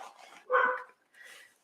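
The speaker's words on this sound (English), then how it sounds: "Sorry if you hear the dogs." Dogs left alone upstairs give a few muffled barks in two short bursts, one stronger than the other, slightly distant and heard through the house with no talk.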